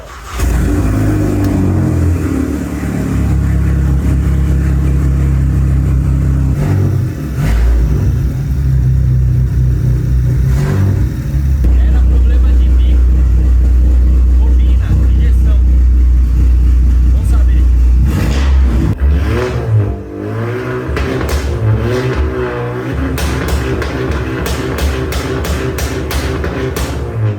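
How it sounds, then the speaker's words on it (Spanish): A turbocharged Volkswagen Jetta TSI engine, bought at a police auction and just brought back to life, roars and revs loudly and close by, with a deep steady drone that swells and dips throughout and voices talking over it. "Mira el rugido de este TSI."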